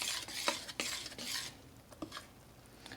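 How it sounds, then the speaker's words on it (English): A spoon stirring flour into wet, sticky bread dough in a bowl by hand, with several soft scraping and clacking strokes at an uneven pace, close and fairly quiet. "I've added my flour, and it looks a bit less terrifying, but still terrifying, so let's stir it up"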